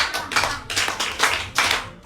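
Quick bursts of applause from a small audience cheering a Yoruba storyteller, several short rounds of clapping in a loose rhythm, fairly close and clear with no talking.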